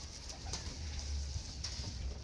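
Pigeons, including black-tailed and red breeds kept at a house, cooing softly and steadily nearby, with a few low throaty coos over faint background noise.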